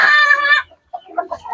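A fighting rooster on a small farm in the Philippines gives a loud, close, drawn-out crow, then after a brief pause adds a few short clucking notes.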